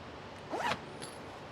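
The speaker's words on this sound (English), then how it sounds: "But it's got a zipper compartment in here" One quick pull of a zipper on a tool backpack compartment rasps close by, a short brisk zip followed by a faint tick, in an otherwise quiet setting.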